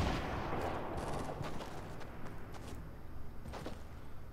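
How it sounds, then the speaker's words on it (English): Distant gunfire in the video game Fortnite Battle Royale, a run of scattered shots and short bursts crackling over a steady game backdrop, fairly quiet with no clear voice. "where are these shots coming from"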